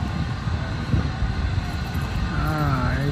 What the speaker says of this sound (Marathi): या ट्रेनमध्ये चालली ट्रेन छोटीशी आवाज करत स्टीमवरची.